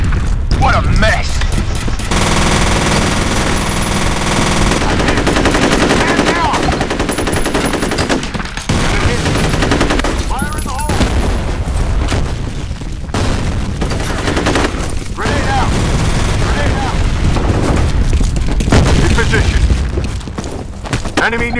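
Grenade blasts and heavy automatic gunfire in the F.E.A.R. video game, loud close firefights with repeated booms and rattling bursts over about twenty seconds, with game character voices calling out between shots.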